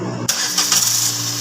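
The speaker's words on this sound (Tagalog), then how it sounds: "Ayan mga boss, paandarin na namin yung makina." A Suzuki S-Presso engine cranks and catches after a brief silent pause, then settles into a steady, close idle with a hum and faint hiss.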